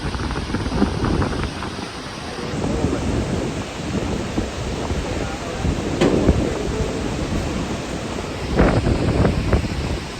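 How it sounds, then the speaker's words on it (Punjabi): A mountain river's water rushes in a heavy, continuous roar on the trek from Govind Ghat to Govind Dham toward Hemkund Sahib, with gusty surges and buffeting bursts rising and falling throughout. "ਤੁਹਾਨੂੰ ਨਦੀ ਦਾ ਖੜਕਾ ਸੁਣਦਾ ਪਾਣੀ ਕਿੰਨਾ ਤੇਜ਼"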